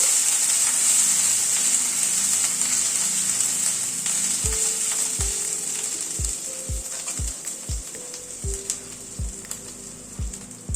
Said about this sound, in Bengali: আদাটাকে একটু এবার ভেজে নিচ্ছি।